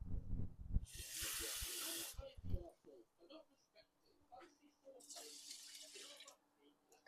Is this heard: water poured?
yes